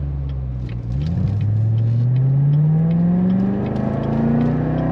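A Chevrolet C7 Corvette Z06 under full throttle, its engine note climbing steadily after a brief dip at a shift, loud and close with a rough, continuous roar and no talking.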